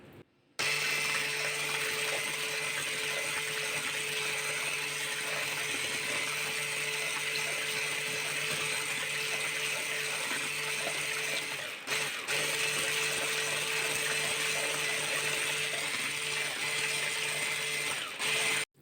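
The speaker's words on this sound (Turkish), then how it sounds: "El blenderı ile güzelce çırpıyoruz." A hand blender whipping a cream mixture for an apple cake, giving a steady, close, high-pitched whir that runs almost without a break, dipping for a moment midway, with no talking.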